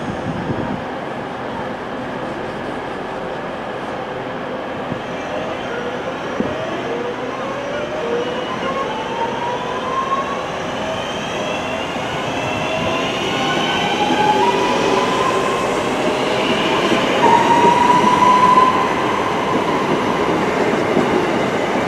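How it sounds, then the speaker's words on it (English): A Northern passenger train, unit 323232, pulls out of a station on the service to Warrington Bank Quay with a loud rising rumble, wheel squeal and clattering over the rails that grows nearer and heavier, with no talk. "There goes the 11 o'clock Northern service to Warrington Bank Quay"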